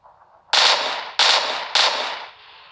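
Three loud gunfire bursts from the game PUBG played on a phone, each sharp onset followed by a short decaying tail, spaced about half a second apart, with no talk over them.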